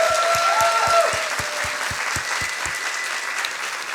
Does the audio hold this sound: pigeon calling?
no